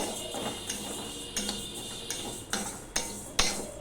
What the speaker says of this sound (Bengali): এবার এই ডালগুলো আমি ভালো করে ভেজে নেব